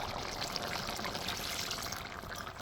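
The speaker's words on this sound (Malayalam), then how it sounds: "ഞാൻ ഈ പാലിങ്ങനെ എടുത്ത് ഒഴിക്കുന്നത്" Coconut milk pours steadily into a pot of chicken curry, giving a continuous close, even liquid rush with no pauses or talk.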